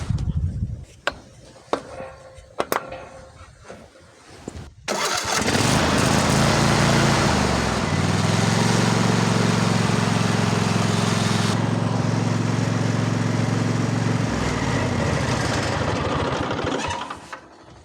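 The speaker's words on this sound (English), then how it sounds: "So we'll go ahead and start it, and then we'll go ahead and check it once more after we idle it." Kohler Courage 7000 Series V-Twin engine after an oil change: a few clicks and taps, then the starter cranks briefly before the engine catches and runs at a loud, steady idle for about ten seconds before shutting down.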